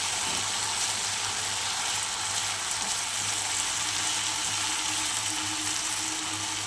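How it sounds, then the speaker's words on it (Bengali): Mixed vegetables with fried egg and ground black pepper fry in a pan for chowmein, giving a continuous, even sizzle close by with a low steady hum beneath and no talking. "দেখো বন্ধুরা আমার সবজি প্রায় ভাজা হয়ে এসছে"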